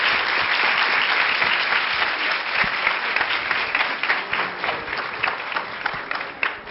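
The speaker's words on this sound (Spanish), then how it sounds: "recíbanlo con un muy fuerte aplauso" An audience at an education seminar in Oaxaca bursts into loud, sustained applause to welcome a speaker, a dense wash of clapping that slowly thins toward the end, with no voices over it.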